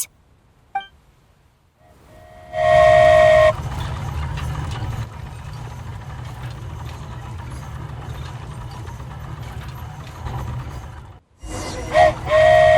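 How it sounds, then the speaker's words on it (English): A train whistle from the flying Aerial Express in the Genshin Impact video game sounds a sustained, bright tone, then falls quiet and briefly sounds again near the end over steady rumbling engine noise. "Choo-choo! Aerial Express moving out."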